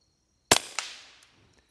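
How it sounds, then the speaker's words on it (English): A single sharp gunshot from a black firearm fitted with a full-size Banish suppressor, a close muffled crack with a quick echoing tail, followed by faint mechanical clicks, no speech. "So I'm going to shoot this firearm on the left, this black one, with a full-size Banish suppressor"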